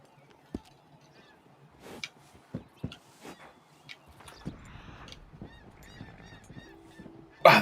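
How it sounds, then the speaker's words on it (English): A large flock of geese in Red Dead Online gives scattered honks, some near and loud, others fainter, amid soft game ambience and clicks, ending in a sudden loud burst. "Wow, that's a ton of geese."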